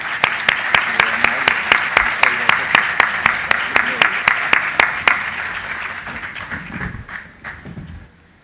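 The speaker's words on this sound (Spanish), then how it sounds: "Les pido un aplauso de bienvenida para nuestro conferencista" An audience at an academic communication conference in Bogotá claps in steady, rhythmic unison to welcome a lecturer, loud and close at first, then thinning and fading away near the end.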